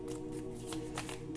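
Oracle cards being shuffled by hand, a brief soft riffling and rustle of card stock, close and quiet with no voice.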